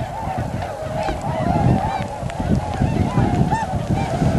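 A large flock of swans honking outdoors, with dense overlapping calls running continuously at fairly close range and no talk.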